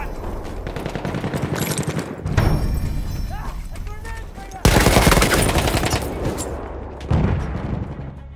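Machine-gun fire in Battlefield 1 on Operation Zauberflaute, dense rapid bursts in a chaotic battlefield mix with loud blasts, shifting in intensity across the clip, with shouting voices mixed in.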